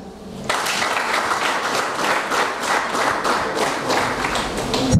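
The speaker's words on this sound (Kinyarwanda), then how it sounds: "Okay, mwiha amashyi." An audience at a youth volunteers' gathering in Rwamagana District, Rwanda bursts into applause, with dense, sustained clapping that starts suddenly and stays loud and even until the end.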